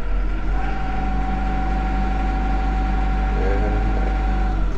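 A Yanmar hydrostatic tractor engine runs at raised throttle, working a loader, with a loud, steady low drone and a constant hum over the whole stretch and no talking.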